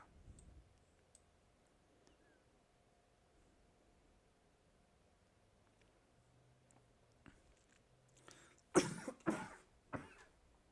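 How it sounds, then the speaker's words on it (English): A person coughing hard several times in a quick burst near the end, loud and close, after a long stretch of quiet background with faint clicks, during a late-night stream of Kingdom Come: Deliverance. "Don't know why I'm coughing so hard tonight."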